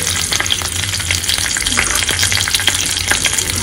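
Curry leaves and mustard seeds hit hot oil in a pan, giving a loud, steady, close-up sizzle and crackle that runs unbroken for several seconds with no talking.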